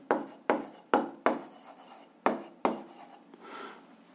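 A pen writing on paper at a desk while solving a physics exercise: six or so sharp, close scratchy strokes at an irregular rhythm, each fading quickly, then a softer, longer scrape at the end.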